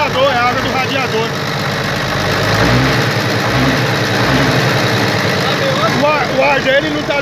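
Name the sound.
FNM 180 truck engine idling after 3 years parked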